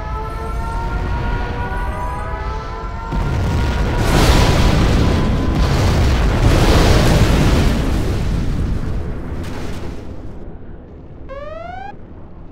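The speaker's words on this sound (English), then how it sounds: "We have launched our nuclear missile." A nuclear missile explosion in Command & Conquer Generals Zero Hour, a massive deep rolling boom that swells and rumbles for several seconds before fading, followed by short rising electronic game tones.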